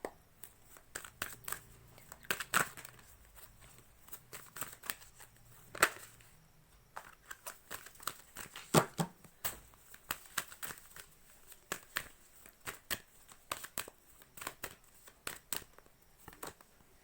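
Tarot cards being shuffled and handled close by, making a long run of quick, crisp flicks, snaps and papery crinkles that come in uneven bursts without talking.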